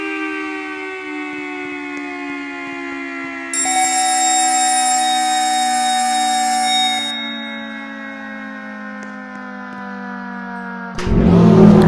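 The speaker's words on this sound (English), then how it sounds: "The chopper just spins, so it sounds really weird without the blower on." A Simplex mechanical siren whose chopper spins with the blower off gives a weird, steady multi-tone whine that slowly drifts down in pitch, with a brighter ringing layer briefly on top and a clunk near the end.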